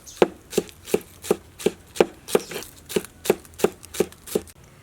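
A knife chops carrot on a cutting board in steady, evenly spaced strokes, about a dozen crisp close knocks with no talking.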